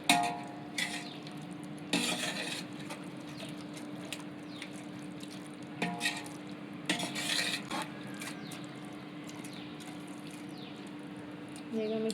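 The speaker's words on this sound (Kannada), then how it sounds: "ಮಿಕ್ಸಣ ಮಾಡ್ತಾಯಿದ್ದೀನಿ." Stirring a rice dish in a large pot, with scattered metallic clinks and scrapes of a spoon against the pot over a steady low hum, a few louder bursts standing out against quieter stretches.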